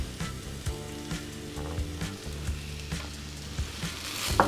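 Mushrooms and red onion frying in oil in a fry pan over medium-high heat, giving a steady close sizzle with a few soft knocks and scrapes as the pan is worked.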